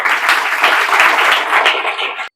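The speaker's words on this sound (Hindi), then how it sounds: "उसके लिए आप लोग जोरदार ताली बजाइए" Audience at a gathering honoring an IIT student breaks into loud, sustained applause, a thick continuous wash of clapping that cuts off abruptly.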